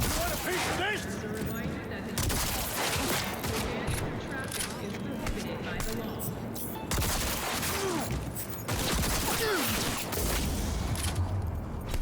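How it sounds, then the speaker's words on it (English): Shotgun blasts from Cyberpunk 2077, loud and repeated through a busy, dense fight mix with a speaking voice layered over much of the action. "This shotgun is non-lethal"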